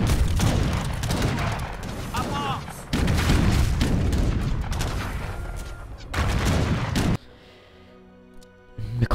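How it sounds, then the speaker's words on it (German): Cannons in the strategy game Age of Empires III boom in repeated heavy volleys amid battle noise, dense and loud, with a voice speaking between blasts before the barrage cuts to a quieter stretch. "Die Kanonen gehen richtig ab."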